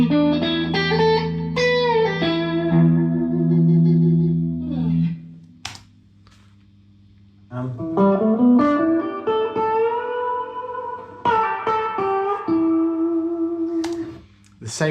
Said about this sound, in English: it's just a basic minor pentatonic run, but we're coming horizontal now across the guitar neck, and we're putting in a cool little bend, finishing on the root